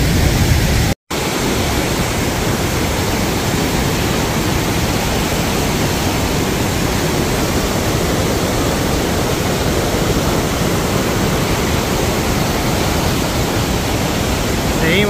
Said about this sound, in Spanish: estamos acá tocando casi la cascada, porque esto, qué fuerza que viene el agua que trae